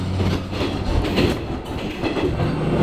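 Train running on rails in Hamamatsu, Japan, a non-electric diesel car with a steady, close rumble of wheels and body creaking, continuous and fairly loud throughout with no talking.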